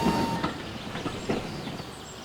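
A steam engine in a Sodor railway setting arrives at a junction pulling a long train of trucks, with steady rolling wagon noise and faint clickety-clack throughout.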